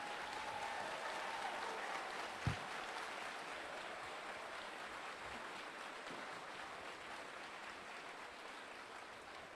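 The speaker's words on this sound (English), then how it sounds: "Please, let's give them a round of applause" A crowd in the stands applauds veterans and retirees at a Fort Jackson basic training graduation ceremony. The clapping is distant and faint, a steady wash of sound with one brief thump partway through.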